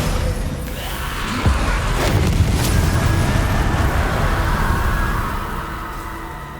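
The Bombarda spell detonates in Hogwarts Legacy, a loud booming blast that swells into a dense, rumbling roar with a couple of sharp cracks before slowly dying away.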